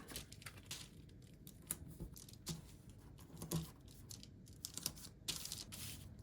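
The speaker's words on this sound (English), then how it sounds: "So I'm going to add some tissue paper." Tissue paper being handled while drafting a sewing pattern for skate covers gives a faint, irregular patter of crinkles and soft rustles, with no voices.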